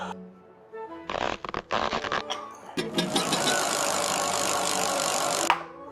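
Screws being locked on the front wheel of a fat tire e-bike: a few quick ratcheting clicks, then a sustained loud buzzing whir of a power driver for about three seconds, close up.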